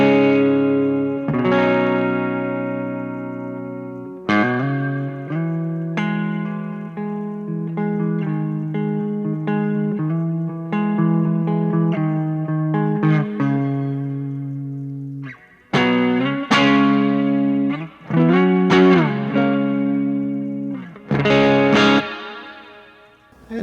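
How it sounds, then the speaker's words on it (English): Electric guitar chords and single notes played through a Joyo Atmosphere pedal on its plate reverb setting, with smooth lingering tails after each strum, loud and close, no talking. "But this is the plate reverb."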